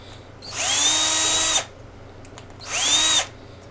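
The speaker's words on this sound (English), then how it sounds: "I'm just using the drill to," A power drill whirs into plastic parts in two short bursts, the first about a second long and the second briefer, close and loud with quiet pauses between.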